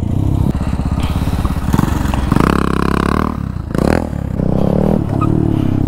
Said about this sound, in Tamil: இன்னும் நல்லா த்ராட்டில் கொடுங்க